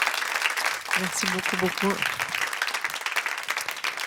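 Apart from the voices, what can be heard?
audience applause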